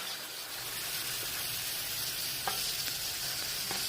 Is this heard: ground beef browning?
yes